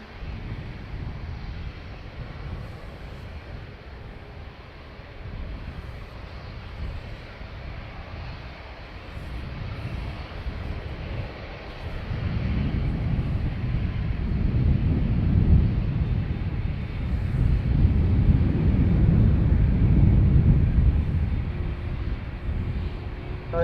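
A plane arriving on the north runway at Dublin Airport, a broad low roar that swells midway and stays loud, with wind noise across the microphone and no voices.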